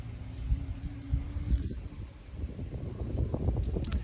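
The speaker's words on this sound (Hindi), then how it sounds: "काफ़ी ज़्यादा तेज़ हवा चल रही है" Strong hot summer wind buffeting outdoors, a low rumbling roar of wind noise with gusty fluctuations, steady throughout.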